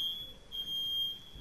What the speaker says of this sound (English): now the fire alarm's going on